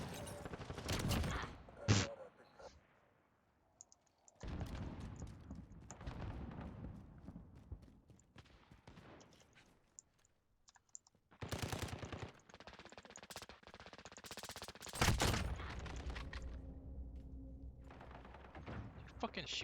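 A video game precision airstrike erupts with bursts of machine-gun fire and heavy blasts, loud and close, in uneven clusters separated by quieter gaps, with a low rumble trailing after the final impacts.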